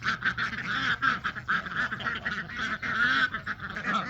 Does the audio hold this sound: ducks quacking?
yes